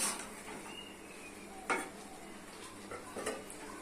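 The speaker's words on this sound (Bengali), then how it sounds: "তুলে নিচ্ছি সবজিটা ভালো ভালো করে কষিয়ে নিতে হবে" Vegetables stirred and sautéed in a pan with potatoes, tomato and lentils, faint background sizzle broken by several sharp spoon scrapes and clinks against the pan, close and unaccompanied by talk.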